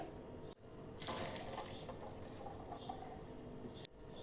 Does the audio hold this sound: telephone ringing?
no